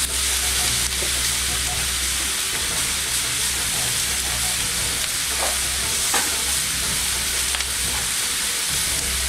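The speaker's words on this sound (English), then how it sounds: "I'm going to go ahead and toss in the meat. I'll try and make sure that the meat gets all nice and browned up" Kielbasa meat browning in a hot cast iron pan gives off a loud, dense sizzle that holds steady throughout, with a few scraping stirs over a low background hum.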